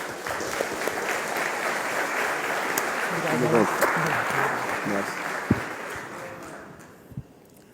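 An audience applauds at a Portuguese-language motivational talk, steady dense clapping that swells in the middle and fades near the end, with voices mixed in.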